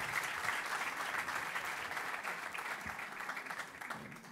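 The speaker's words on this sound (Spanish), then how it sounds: "Un aplauso para Emiliano y para Rodrigo." An audience applauds at the close of a talk on Bitcoin and cryptocurrencies, a dense, even wash of clapping that holds steady throughout, moderately distant and without speech over it.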